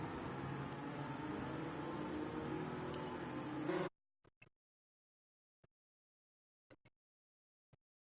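Rain in a racing video game, a steady hiss of falling rain that cuts off abruptly partway through and gives way to near silence broken by a few faint clicks.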